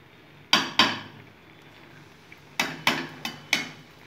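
Curry with lentil dumplings being stirred in a pan: a spoon gives sharp, close clinks against the metal, a pair first, then a quicker cluster of four after a pause, with no talking.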